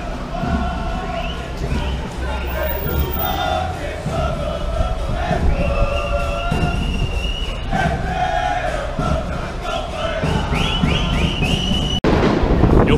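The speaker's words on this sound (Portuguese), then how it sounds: "Eles estão ali soltando muitos foguetes e tentando invadir o Vieirão." Football fans outside the Vieirão stadium in Gravataí set off many fireworks, with crackling rocket bursts and bangs running through a loud, chanting crowd and whistles across the whole stretch.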